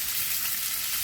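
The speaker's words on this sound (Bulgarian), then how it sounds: "Запържаме бекончето и завъртаме парчето рибатон още веднъж на първата страна" Bacon and tuna frying in a pan, a loud, steady, dense sizzle with constant crackle and no voices.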